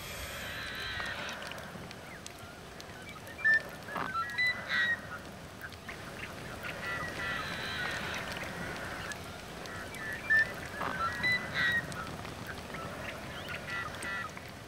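Harsh, repeated Forster's tern calls ring out in bursts over a steady outdoor background, with a few sharper, louder cries standing out now and then.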